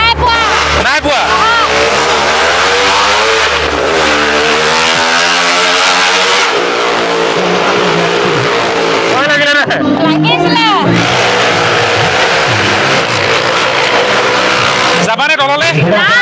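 Cars and motorbikes rev at a large crowded fair, engines droning and rising in pitch under steady talk and crowd noise, with brief louder bursts near the end.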